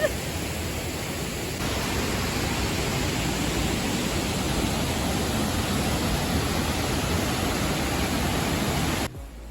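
Štrbački Buk, a 25-metre wall of cascades in Bosnia and Herzegovina, gives a steady, dense rushing roar that holds evenly throughout and cuts off abruptly near the end.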